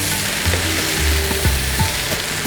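Lemon sevai rice noodles being stirred in a pan over a reduced flame, a steady sizzling hiss with soft scraping strokes of the spoon, close and continuous with no talk.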